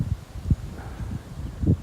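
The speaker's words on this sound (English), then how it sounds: "sorry for the wind, it's kind of breezy today" Breezy wind buffeting a microphone outdoors, low rumbling gusts swelling and fading in uneven bursts, close and fairly loud.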